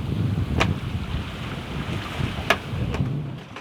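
Wind rushes across the microphone aboard a sailboat under full sails after the engine is shut off, a steady broadband roar with a few sharp gusty bursts, no voices.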